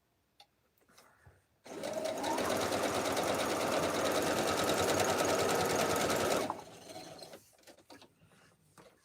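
A sewing machine runs a seam across a quilted Halloween mug rug with skeleton-print fabric: one steady, close mechanical whir of about five seconds that starts and stops abruptly, with quiet handling noises before and after.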